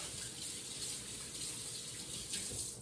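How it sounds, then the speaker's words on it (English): Tap water runs steadily into a kitchen sink as hands are rinsed off mid-recipe while cooking, a continuous close broadband splashing with slight shifts in flow and no talking. "Rinse my hands off real quick."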